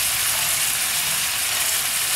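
Chicken fries with tomato and ginger paste while being stirred in the pan, producing a dense, loud, continuous hissing sizzle heard up close with no speech.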